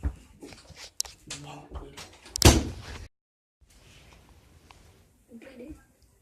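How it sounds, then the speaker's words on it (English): An indoor door is pushed shut with a sharp, heavy thunk midway, amid shuffling and handling noises and a person talking, followed by near silence. "Close the door."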